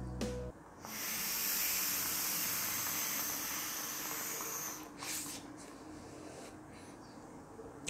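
An e-cigarette vaped with Crush It liquid gives a long breathy hiss of vapour lasting several seconds, close and fairly soft, then a short second puff and quiet exhale.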